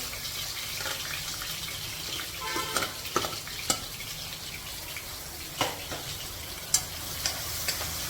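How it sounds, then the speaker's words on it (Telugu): Onions sizzle steadily in hot oil for a mutton and broad-bean curry, with a constant bright frying hiss and a few sharp clicks of a spoon stirring in the pan, close and alone. "ఉల్లిపాయలు వేసేస్తున్నాం"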